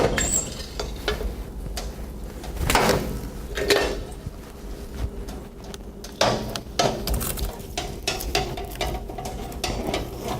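A Glock pistol is pushed into a stove with scattered metallic clinks, scrapes and door-like thuds, irregular handling noises close by against a low background hum.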